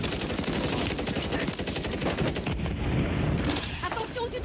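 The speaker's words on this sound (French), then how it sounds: "On me tire dessus." Rapid gunfire aimed at the player in a video game shooter crackles in dense, overlapping bursts, fairly loud and continuous throughout, with shots layered over one another.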